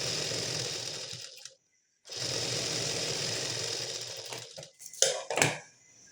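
Sewing machine stitching plain blouse fabric, a loud continuous motor whir that stops briefly, resumes steadily, then breaks into a few short bursts and clunks at the end.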